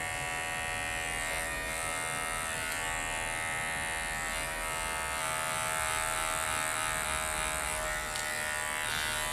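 An electric hair clipper buzzes steadily and loudly while cutting and thinning hair at a salon, shaping the length and pointed fringe, a continuous close hum with slight changes in pitch as it moves.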